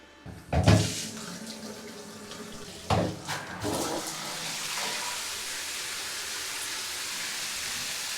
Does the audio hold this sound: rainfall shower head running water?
yes